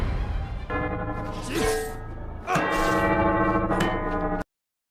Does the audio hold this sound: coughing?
no